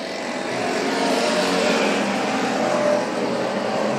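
Race cars roar at full throttle on the Kern Raceway oval in Bakersfield during a green-flag restart, a dense, steady wall of engine noise that swells slightly and holds loud throughout without any voices.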